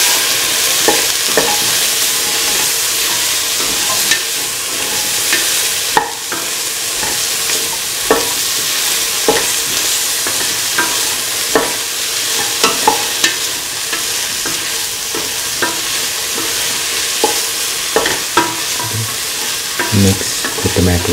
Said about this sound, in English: Mix the tomato and the cauliflower pieces, the rest of the mixture.